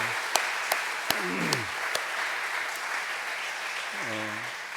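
A church congregation claps for a while during a worship and praise service, the applause steady and moderately distant under a large room's reverb, with a few louder sharp claps and brief voices rising near the end.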